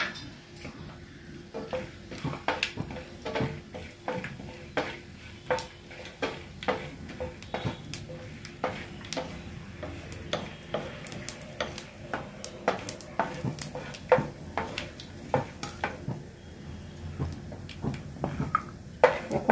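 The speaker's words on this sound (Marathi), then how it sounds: "थोडी तुपात टाकून ना परतून घेऊया" Almonds sautéing in ghee in a pan while being stirred, a low sizzle beneath a steady rhythm of sharp spatula scrapes and taps against the metal.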